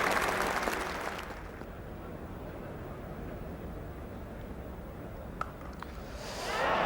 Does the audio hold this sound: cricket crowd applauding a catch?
yes